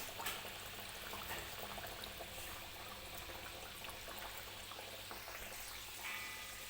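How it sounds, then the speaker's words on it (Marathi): Mung dal kachori deep-frying in oil over medium heat, a steady, quiet bubbling and fizzing hiss that carries on evenly without interruption. "अगदी मीडियम आचेवरतीच या कचोऱ्या ज्या आहेत आपल्याला तळून घ्यायच्या आहेत"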